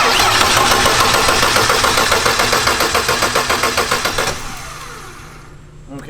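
A turbocharged BMW E36 with an automatic gearbox cranks with no fuel, its starter churning in a fast, even rhythm for about four seconds without catching before it cuts off into near silence.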